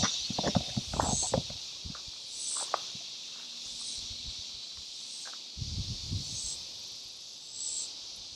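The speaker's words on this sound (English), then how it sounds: "You could probably hear all the cicadas." Cicadas buzz in the trees along Waterloo Lake Trail in Denison, Texas, a high, pulsing drone swelling in regular bursts above scattered footsteps and rustling close by.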